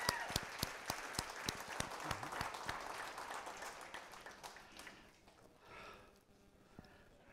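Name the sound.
audience applause, hand clapping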